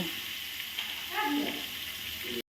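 Raw green banana pieces with salt and turmeric sizzle in a pan, a soft continuous frying hiss broken by scraping stirs partway through, ending abruptly.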